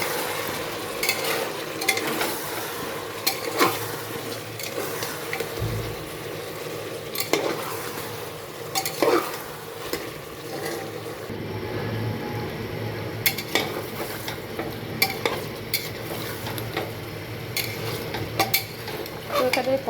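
Chicken curry with tomato and cumin powder sautéing in a pan, a steady close sizzle broken by repeated scrapes and clinks of a spoon stirring against the metal, with no talking.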